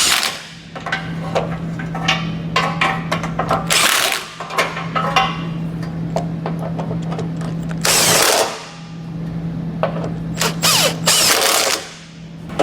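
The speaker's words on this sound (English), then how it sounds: "So now we'll just go back with our 14mm socket and snug them all back down" A 14mm socket on an impact or power driver runs down nuts on a Draw-Tite Class III trailer hitch on a 2019 Subaru Outback wagon, close and loud, in several sustained whirring bursts with short pauses and clicks between them.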